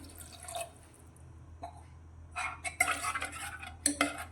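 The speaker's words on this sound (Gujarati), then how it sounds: "તો હવે અત્યારે તેમાં આપણે રસ્સો કરવા માટે પાણી ઉમેરીશું." About a glass of warm water goes into a peanut curry in a pan, with soft splashes and metallic utensil clinks that sharpen into a busier clatter toward the end.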